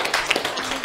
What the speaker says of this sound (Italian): Un grande applauso alla prof Pinto.